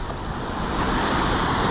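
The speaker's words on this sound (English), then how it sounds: "You hear the crashing waves." Ocean waves crash and wash continuously onto the Lido Beach shore near Sarasota, a broad steady roar mixed with wind noise buffeting the microphone during a ride along the shoreline.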